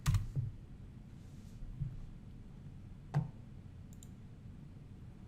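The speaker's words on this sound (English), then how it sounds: "we'll type join space" Sparse, soft clicks of keys on a computer keyboard, a few scattered taps over a quiet background hiss with gaps between them.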